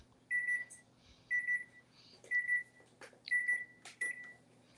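Kitchen oven timer sounds while a pizza bakes, giving four or five evenly spaced clusters of sharp, high electronic beeps, clear and fairly close, with no talk over them.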